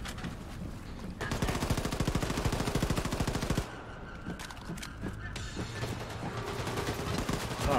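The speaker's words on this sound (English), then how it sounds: "Oh, I'm getting shot." Rapid machine-gun bursts in the Wolfenstein 2 shooter, dense and loud for several seconds, then a lull, then scattered single shots and clanks behind the fighting.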